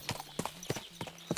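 Horse hooves clip-clop at a quick, steady gait in the video game Kingdom Come Deliverance 2, with five evenly spaced, close hoof strikes standing out clearly and no talking.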